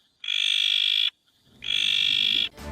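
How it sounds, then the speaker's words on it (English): Two long, loud trilling frog calls, each lasting under a second, separated by a short pause, with faint rustling underneath the second call and no voices. "a planet with lots of frogs ribbiting, croaking and hooting across it"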